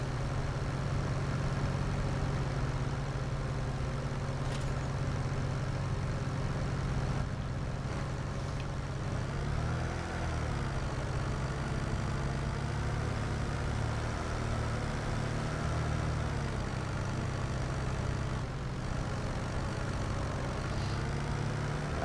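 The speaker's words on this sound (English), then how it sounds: "I like this tractor, this Mahindra." Mahindra tractor engine in Farming Simulator 25 running steadily, a constant low droning hum that rises briefly in pitch as revs shift midway, with no talk over it.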